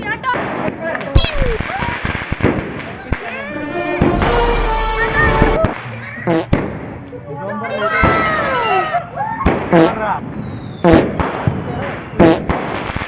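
Night fireworks going off at close range in a dense series of sharp cracks and crackling bursts, some sustained fizzing stretches between louder pops, with voices talking throughout.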